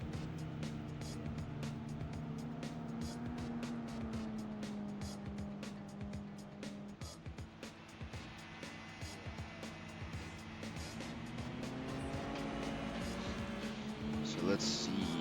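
Toyota car engine at full throttle in Gran Turismo 4 on the East Shore course, a sustained rising and shifting engine drone with tire noise running throughout, while someone talks over it.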